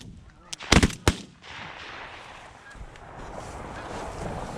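Several loud shotgun blasts crack in quick succession during a goose hunt in New York, followed by a lingering outdoor hush with faint rustling and distant honking.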